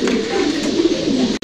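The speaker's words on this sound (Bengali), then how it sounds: "প্রিয় দর্শক আপনারা দেখতে পাচ্ছেন এখানে একজোড়া থামাসিন কবুতর আছে ব্ল্যাক চেকারের মধ্যে" A pair of black checker Thamasin pigeons coos close by, a low, continuous, throaty burbling with no talk over it.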